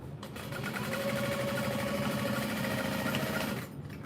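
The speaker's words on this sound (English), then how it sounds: "And then I trail it off into the seam allowance to backstitch to secure it." A sewing machine stitches a tote bag seam with a steady, fast mechanical whir for about three and a half seconds, then stops; close and moderately quiet, with no talk.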